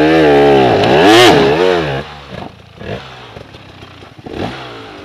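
Motorcycle engine revving hard as the rider opens the throttle, a loud rising and falling whine at first, then dropping to quieter uneven blips and short revs.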